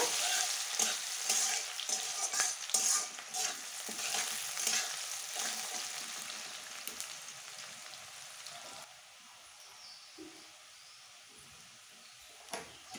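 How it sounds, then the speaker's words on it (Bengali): Chopped onions fry in oil with cumin and chilli for a dhaba-style chana aloo ghugni. A steady, close sizzle runs throughout, with scraping stirs on top, and it turns noticeably quieter after about nine seconds. "দিয়ে দেব পেঁয়াজ কুচি। পেঁয়াজগুলো একটু লাল করে ভেজে নেব।"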